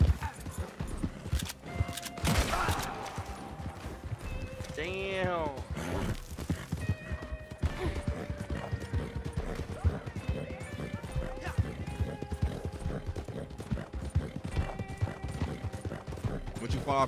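A horse in the game Red Dead Redemption 2 whinnies loudly a couple of times amid steady clip-clopping hooves, with people talking over the sounds.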